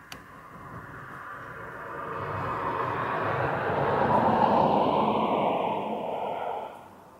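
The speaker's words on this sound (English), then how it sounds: "It looks like an Eastern Airways, but could be wrong." An Eastern Airways airplane at Aberdeen Airport roars past at a distance. Its broad engine noise swells gradually to a peak, then fades away toward the end, with no voices.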